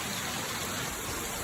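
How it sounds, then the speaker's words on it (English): Heavy rain pours down hard during a storm in Florida, a steady, loud, dense wash of noise with no pauses and no voices. "It's raining really hard."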